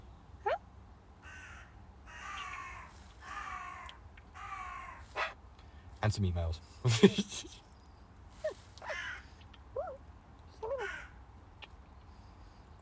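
A pet bird, crow-like, gives a series of raspy caws and squawks close by, in separate bursts with quiet gaps between them, while a person speaks briefly.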